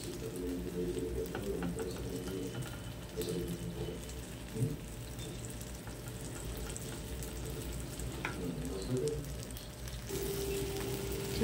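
A sandwich fries in butter on a pan, with a steady soft sizzle and occasional small crackles and pops throughout.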